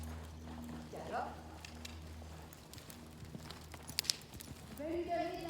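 A horse working barrels at a gallop in an arena, its hoofbeats thudding softly and irregularly at moderate distance, with a person talking over them.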